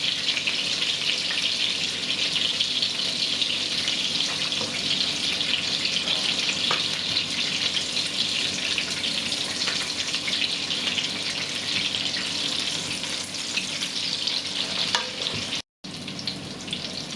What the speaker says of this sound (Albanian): Ne do vazhdojmë të skuqim të tjera derisa ta përfundojmë.